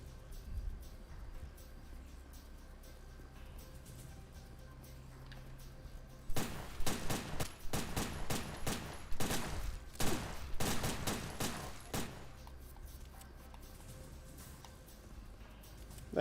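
Rapid gunfire from the Neptunia x Senran Kagura: Ninja Wars video game cracks out in dense bursts for several seconds, pausing briefly between volleys, then stops, leaving quiet game background.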